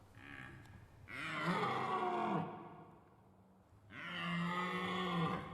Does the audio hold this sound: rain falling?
no